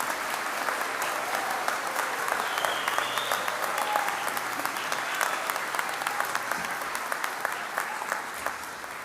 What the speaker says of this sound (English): Family and friends, please give a big round of applause to our graduates.